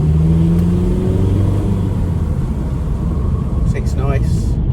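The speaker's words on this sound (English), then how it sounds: "Let's take it out for a test drive." A VW Golf Mk5 on a test drive after fitting a suspension kit: a steady, close interior engine drone and road rumble, with a brief high squeak or rattle near the end.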